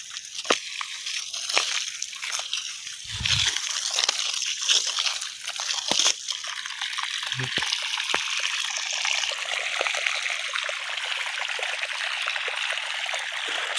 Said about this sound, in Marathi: बघा गेलं आता पाणी सोडून डायरेक्ट